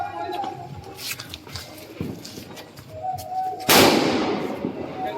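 Diwali firecrackers burst outdoors, with several sharp cracks through the first seconds and then one loud bang near the end that trails off, while voices are heard in the background.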